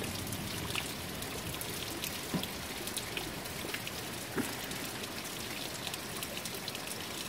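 Steady rain from a June storm falls throughout, a dense even patter with occasional louder drops, no voices.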